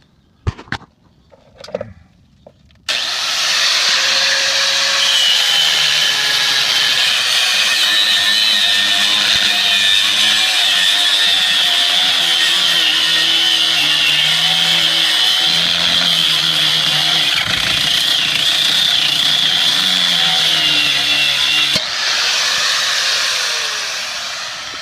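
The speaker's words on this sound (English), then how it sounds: "I'm just going to pull out the old Harbor Freight grinder and knock that right off" A Harbor Freight angle grinder cuts off a sway bar link on a 1998 Jeep Grand Cherokee, a few brief clanks and then a loud, steady, high-pitched whine that runs unbroken for about twenty seconds before stopping.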